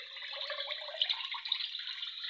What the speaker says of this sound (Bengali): এভাবে সকল পানিগুলা বের করে দিবেন।